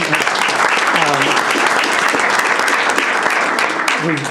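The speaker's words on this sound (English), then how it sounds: "let's give him a round of applause." Audience at a school district board meeting bursts into sustained applause, dense and steady throughout, with a few voices and cheers rising faintly beneath the clapping.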